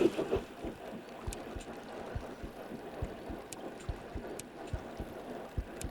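Fish heartbeat in the Bassmaster Fishing 2022 video game on the St. Lawrence, a steady series of soft low thumps at a regular pulse over faint water ambience, with no talk.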